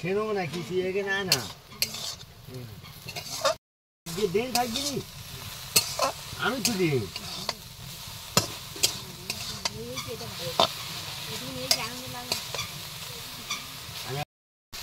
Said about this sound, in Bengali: ভেজে নিতে হবে একদম খুব ভালো করে।